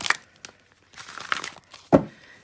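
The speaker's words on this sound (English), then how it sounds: "I'm going to give them a shuffle now." Crisp papery sounds of large Dreams of Gaia tarot cards: a quick riffle at the start, scattered soft flicks, then a firmer slap of cards near the end, close by.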